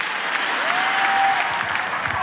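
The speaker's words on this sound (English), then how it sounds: "Why are you cheering about that?" A large church congregation breaks into sustained applause and cheering that fills the hall. The sound is a dense, even wash of clapping, and a faint sustained musical tone runs beneath it.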